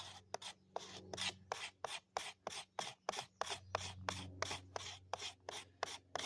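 A Buck-Strider knife scrapes wood in quick, regular rasping strokes, about three per second, close and crisp but quiet, with a faint low hum underneath.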